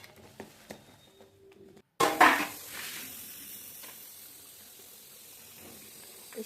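Tomato chutney with jaggery stirred in a pan: after a brief quiet gap comes a sudden clatter of the utensil, then a soft continuous simmering sizzle with light scraping.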